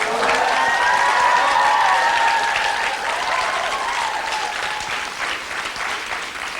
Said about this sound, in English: getting a big round of applause from the audience.